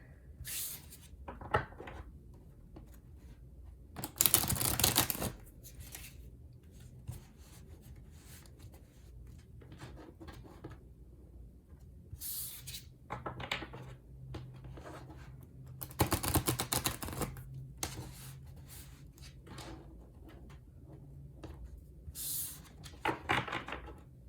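Tarot cards are shuffled close by in several brisk bursts of riffling and flapping, separated by quieter stretches of soft handling.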